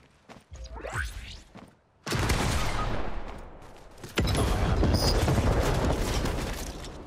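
Gunfire from the video game Fortnite, with dense bursts of rapid shots and thuds that start abruptly, ease slightly, then surge again loud and sustained, with a faint swoosh early on.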